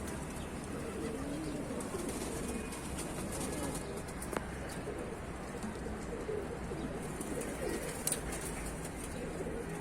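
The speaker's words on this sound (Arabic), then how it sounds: "بس في حمام بينزل على بابا اهوت" Soft, low cooing of domestic pigeons repeats steadily through a busy outdoor background, with a couple of faint sharp knocks.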